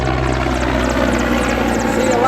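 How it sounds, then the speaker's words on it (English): A military helicopter flies over the Gulf of Mexico near Eglin Air Force Base, its steady rotor and engine drone holding loud and constant throughout, with faint talk mixed in. "That's just a helicopter."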